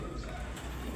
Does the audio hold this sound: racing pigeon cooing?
yes